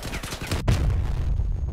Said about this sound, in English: Someone got me with that cannon